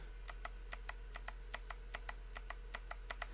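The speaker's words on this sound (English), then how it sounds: "almost all the other keys are white cherry keys, and these are very clicky" Fast, even typing on a mechanical keyboard with clicky white Cherry switches: a run of sharp, crisp clicks about five per second, close to the mic, with a low steady hum underneath and no voices.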